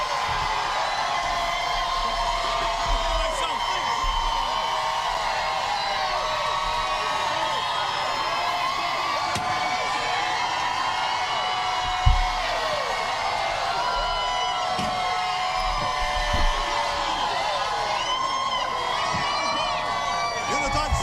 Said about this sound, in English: Oh my gosh, the crowd